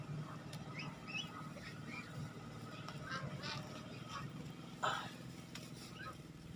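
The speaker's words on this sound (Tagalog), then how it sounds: "Ayan yung mga alaga naming ganso." Domestic geese kept on a vegetable farm honk and cackle repeatedly at moderate distance over an outdoor background, with one louder honk near the end.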